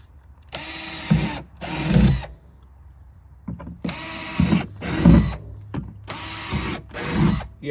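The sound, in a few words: drilling drainage holes in the bottom of plant pots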